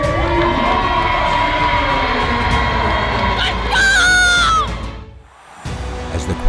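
A large crowd at an X League football home game roars and cheers continuously, with shrill shouts, screams and a brief whistle-like squeal rising above the noise before a sudden drop and renewed cheering.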